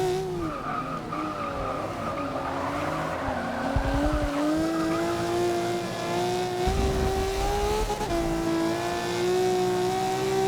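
Ferrari 250 California in Forza 6 racing flat out in a multiplayer Class C race, a loud continuous engine howl shifting pitch through gears with tyre squeal and skidding throughout.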